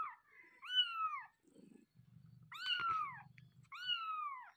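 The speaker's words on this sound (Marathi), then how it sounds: "पिल्ली तुझी ओरडते ती कशी." A kitten gives three clear, rising-and-falling meows, separated by soft, low purring, all close by in a quiet room.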